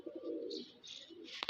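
Punjabi Malwai pigeons cooing close by, a few low throaty coos in quick succession with faint higher chirps, quiet and alone.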